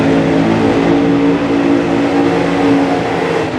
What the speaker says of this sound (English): it's turbo on supercharger action here